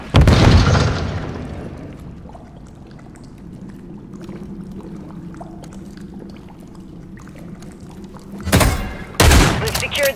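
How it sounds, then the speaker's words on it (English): Stun grenade bursts in a Call of Duty match, opening with a loud, sharp blast that decays into a lingering ring and hum, then a second heavy double bang near the end; no voices. "Throwing a stun grenade!"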